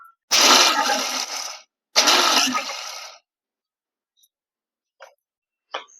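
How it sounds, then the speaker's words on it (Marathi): A mixer grinder coarsely grinds roasted peanuts in two short bursts, the first about 1.3 seconds and the second about 1.2 seconds, each a loud whirring rattle, followed by silence and a few faint clicks. "आता मिक्सरवर आपण वाटून घेऊ आणि वाटताना जास्त बारीक नाही करायचे"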